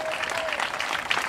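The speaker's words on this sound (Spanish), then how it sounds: "Un aplauso." A short burst of audience applause at a children's performance, with close, dense clapping that holds steady.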